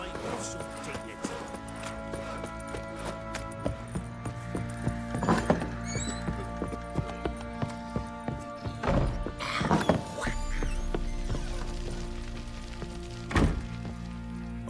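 Roach, Geralt's horse in The Witcher 3 video game, clops along with rhythmic hoofbeats and lets out several sharp neighs and snorts. Voices talk over parts of it.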